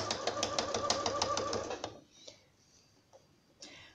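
Close, fast stitching from a sewing machine as two pinned fabric parts are sewn together, a rapid ticking run lasting about two seconds before stopping, followed by a few faint handling clicks.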